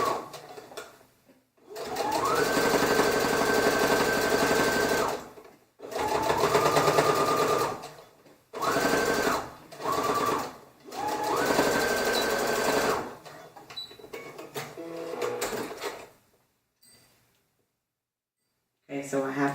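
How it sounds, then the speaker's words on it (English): A sewing machine runs in several bursts of steady, rapid stitching along shirt seams, each lasting a few seconds, with short pauses between runs and quiet at the end. "On the sewing machine and go ahead and sew those."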